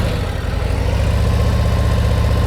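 Motorcycle engine ticking over at low RPM during slow-speed riding practice, a loud, close, even pulsing throb that holds steady with no talk.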